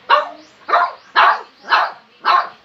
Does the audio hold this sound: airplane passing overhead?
no